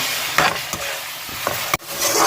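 Green spiced paste for a green handi fries in a pan, with a steady hiss broken by a few sharp stirring scrapes and knocks, close and fairly loud with no talk.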